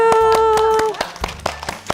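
A few sharp claps from a small group of children at a pharmacist-experience event, sounding somewhat uneven, over a held tone that cuts off partway through.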